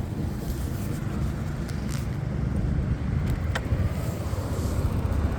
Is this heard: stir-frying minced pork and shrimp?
no